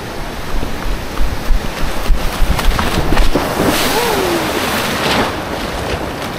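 Ocean surf rolls in at a surf break, a loud churning wash of waves with gusty wind buffeting the microphone, swelling and easing over several seconds; a brief voice-like cry rises near the middle.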